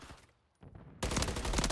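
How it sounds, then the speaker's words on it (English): Gunfire in Call of Duty: Modern Warfare III during a competitive match: a few muffled shots, then a loud, sustained burst of rapid automatic fire close up. "Gunfire."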